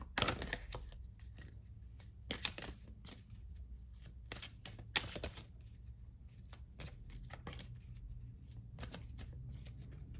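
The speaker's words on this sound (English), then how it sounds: "I'm going to give it one more little shuffle" Cards being shuffled in quick bursts of riffling and flapping, close and fairly quiet, with brief pauses between shuffles and no talking.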